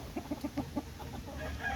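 Chickens cluck in a quick run of five or six soft, evenly spaced notes, then scattered quieter clucks over a low background hum.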